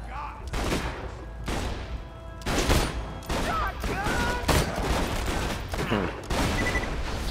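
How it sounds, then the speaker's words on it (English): A sniper rifle firing in the video game Borderlands 2, a string of sharp, loud game gunshots about a second apart with echoing tails, mixed with other game sounds. "I'll try out this new sniper rifle"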